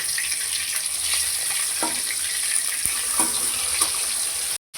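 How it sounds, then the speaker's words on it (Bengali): Fish fries in hot mustard oil, a steady, dense crackling hiss with occasional pops, cutting out briefly near the end. "আমি এখানে 3 পিস করে মাছ দিয়ে মাছগুলো ভেজে নেব।"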